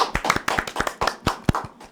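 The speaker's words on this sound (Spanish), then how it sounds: "Un aplauso." A studio audience applauding on a television talk show: a short burst of brisk, uneven hand claps from a small group, close and fairly loud, with no voices.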